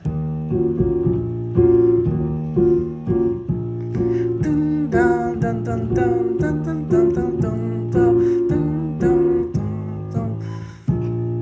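Piano chords with a jazzy, slightly offbeat feel, played steadily in a repeating pattern, close and fairly loud with no voices.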